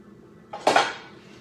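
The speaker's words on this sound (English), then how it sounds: "Just smushing those pumpkin pieces down" A spoon scrapes and clinks against a mixing bowl while mashing pumpkin pieces into cookie dough, one brief close clatter rising after a quiet moment and fading quickly.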